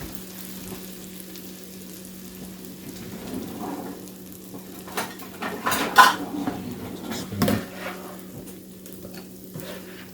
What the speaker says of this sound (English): We'll spoon that into a bowl.